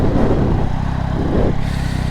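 A Yamaha MT-09 motorcycle engine with a downward-pointing exhaust runs steadily up close, a continuous low rumble with a slight rise in the middle, with no talk over it.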